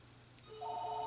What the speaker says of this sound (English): let me go answer the phone.